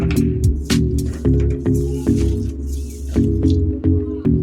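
Thinly sliced potatoes mixed with spices by hand, giving close, wet squishing and squelching sounds in an irregular rhythm of repeated handfuls.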